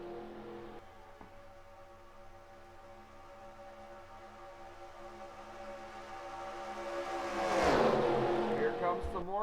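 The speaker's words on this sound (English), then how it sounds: "Oh, here comes the 15 of Zach Flickinger, another Tweenix racing car." Race cars in a sim racing league event, the Budweiser All Pro Series Can Am Duels, hold a steady droning engine note, then one car sweeps loudly past near the end.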